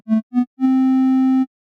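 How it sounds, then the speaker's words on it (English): Triangle-wave synth tone patched in VCV Rack for early electro-acoustic-style sounds: two short blips, then one long, steady, clean sustained note, soft and pure with no talking. "the triangle wave I'm using because I don't want something thick with harmonics"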